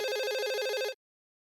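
Landline telephone ringing in a fast electronic trill, loud and close, lasting just under a second before cutting off abruptly into silence.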